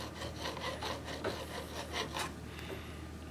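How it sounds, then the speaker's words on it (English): The back of a chisel is rubbed in quick, regular back-and-forth strokes across a sharpening stone, a close, faint gritty scraping with no talk. "I'll polish the back of that chisel"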